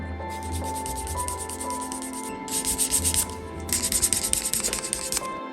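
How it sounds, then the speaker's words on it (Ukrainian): Fine 3000-grit sandpaper rubs against leather in short back-and-forth strokes, a dry scratchy hiss that comes in bursts with brief pauses. "Беремо нашу наждачку трьохтисячку і далі тут його шліфуємо"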